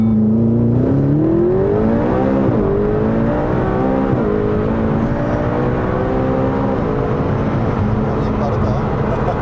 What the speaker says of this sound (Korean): 급가속을 다시 한 번만 더 해보도록 하겠습니다